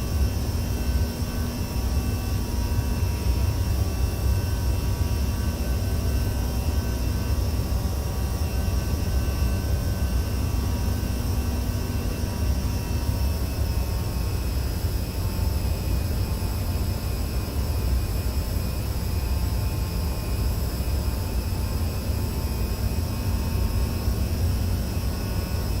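Simulated CRJ 700 regional jet climbing after takeoff in X-Plane 11, a steady, loud cockpit engine roar and broadband rush with a constant whine, unbroken for the whole stretch with no talk.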